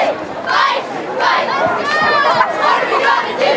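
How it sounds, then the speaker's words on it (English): A sellout crowd at a high school football stadium roars and chatters in a loud, continuous swell, with scattered shouts and whoops rising from the stands during a season opener. "Lawrence Knight Stadium, sellout crowd"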